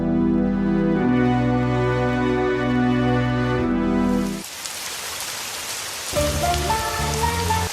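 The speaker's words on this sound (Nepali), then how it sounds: "यस, पानी पर्यो" Rain pours down in a dense, even hiss of drops on a hard surface, arriving loud and close after a stretch of music, with musical tones returning over the downpour toward the end.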